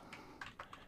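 A computer keyboard typed on at a desk gives a few quiet, quick key taps, close by and faint, with no talk.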